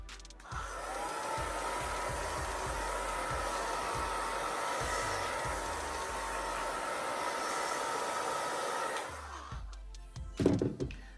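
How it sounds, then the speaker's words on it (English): A hair dryer blows steadily and loudly up close for about nine seconds, warming sprayed lace wig adhesive until it turns tacky, then shuts off with a few handling thumps. "now that I have that sprayed, I'm gonna do the heat for just a little bit so it gets a little tacky"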